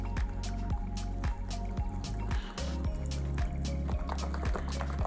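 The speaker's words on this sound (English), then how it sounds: "Now we're just gonna whisk this into the mixture." Cornbread mix being whisked into a thick lima bean batter, with a rapid, steady run of wet, squishy whisk strokes against the bowl, close and continuous.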